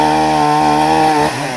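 A chainsaw cuts firewood for a Saint Anthony bonfire, its engine droning loud and close in a steady harmonic buzz that drops in pitch just before the end.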